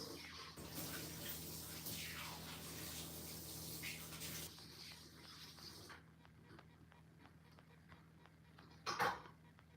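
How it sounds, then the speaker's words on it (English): Running tap water splashes steadily as an exotic fruit and then hands are washed beneath it, a broad continuous gush that cuts off partway through, followed by quieter handling sounds and a brief louder splash near the end. "wash it again and wash my hands"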